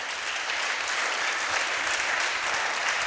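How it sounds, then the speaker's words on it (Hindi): During a Sunday church service in Gujranwala, the congregation breaks into sustained applause, a steady wash of many clapping hands heard from a moderate distance. "आइए उस मसीह के लिए जोरदार तालियां बजाएं।"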